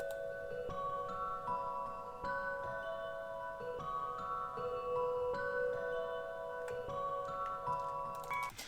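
Omnisphere 2 Celeste Ambient preset playing a soft, bell-like celeste melody of sustained overlapping notes over a faint airy wash, quiet and steady with no voices.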